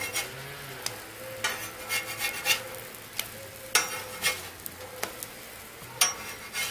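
A spatula flipping pancakes on a Blackstone griddle top: soft scrapes and sharp taps of metal on the hot griddle surface, with a faint sizzle underneath, close and without talk.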